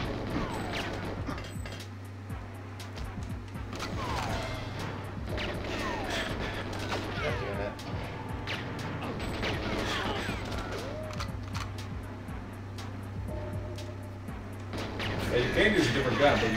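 Rapid automatic gunfire and crashing impacts during a gunfight in the video game GoldenEye 007, near-continuous bursts with a game tone underneath and voices talking throughout.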